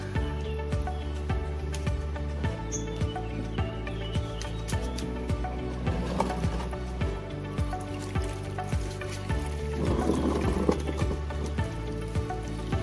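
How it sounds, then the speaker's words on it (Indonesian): Water siphoned from a fish-rearing bucket trickles and splashes steadily into a container, with a continuous low mechanical hum and occasional faint clinks. "Ini segini air sipon untuk siram tanaman"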